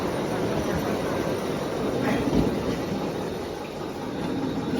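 A train pulling into the end-of-line station at a beach resort, a steady loud rumble of rail wheels and carriages filling the scene with a brief swell in the middle and no clear talk over it.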